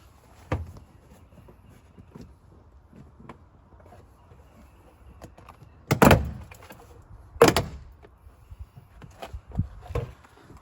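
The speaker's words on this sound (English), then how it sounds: "you're just going to pull from the bottom, and you're going to hear some noises that sound like you broke something" Plastic clips pop loose as a door panel is pried off a Toyota Tundra, giving a few sharp, loud snaps separated by quieter handling and rustling.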